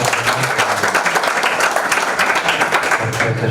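A steady wash of crowd clapping at a national pitch competition in Burundi, loud and continuous for a few seconds, with a faint low voice underneath.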